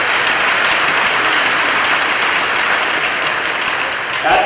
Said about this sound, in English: How about another round of applause for Curtis?